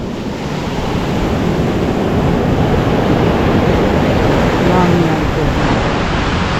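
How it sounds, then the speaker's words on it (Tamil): Ocean waves roll onto the beach at Thirukkovil, a loud continuous roar of surf mixed with wind buffeting the microphone, no breaks throughout. "திருக்கோவிலில் இருக்கிற கடற்கரை தான் இந்த கடற்கரை."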